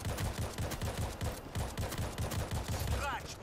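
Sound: suppressed shotgun firing in video game World War Z

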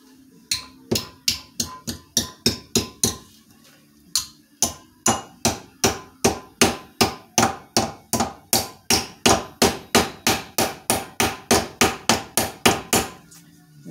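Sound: hammer hitting while building an Ultra Cruiser

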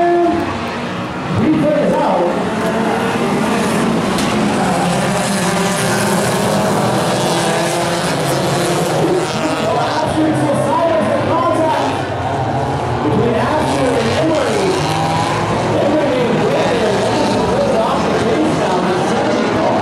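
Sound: 1995 Acura Integra VTEC race car engine, auto racing

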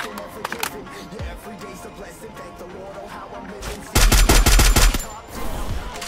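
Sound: gunfire in Free Fire video game

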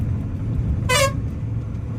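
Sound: car horn honking

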